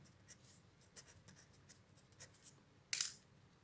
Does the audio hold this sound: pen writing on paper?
yes